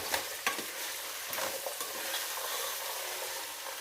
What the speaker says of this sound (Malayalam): ഇതിനെ അടുപ്പിൽ വെച്ചൊന്ന് വഴട്ടുക